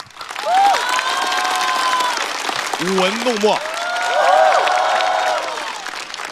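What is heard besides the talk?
audience applause for stand-up comedians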